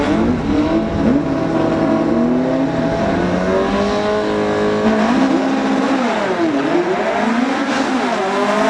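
Drag racing cars make a straight run at a 2006 Silver Dollar Showdown event, a loud continuous engine roar with rising and falling revving tones, heard from the track side and dominating throughout.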